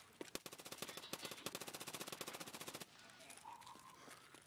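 Rapid automatic gunfire in a video game with a jumpy, hard-to-control gun, a fast steady burst of shots lasting nearly three seconds before it stops and quieter game ambience remains.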